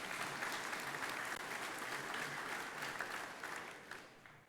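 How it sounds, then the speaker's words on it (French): An audience claps at a Catholic school gathering. The applause is dense and steady, filling the room, then slowly thins toward the end. "On les applaudit aussi."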